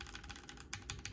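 Fingers type quickly on a Keychron Q1 mechanical keyboard, producing a solid, close series of crisp key clacks in an uneven typing rhythm, heard alone.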